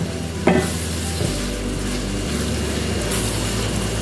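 Hard vegetables for Nigerian-style fried rice stir-frying in a pan on high heat, a loud, close, continuous sizzle with a scrape of the spatula near the start and steady stirring throughout.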